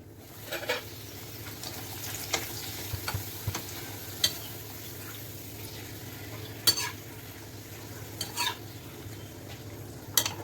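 Papad frying in a pan, a soft, fairly quiet sizzle with occasional sharp clinks and scrapes of a utensil against the pan, close and alone.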